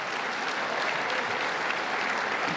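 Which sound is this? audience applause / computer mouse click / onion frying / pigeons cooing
audience applause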